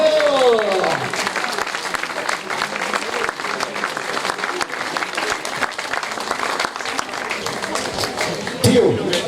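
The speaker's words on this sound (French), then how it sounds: "Je vous demanderai de l'applaudir, mesdames et messieurs, très très fort" Applause at a cycling podium ceremony for an elite stage winner, a dense crowd clapping steadily throughout, with a public-address voice at the start and end.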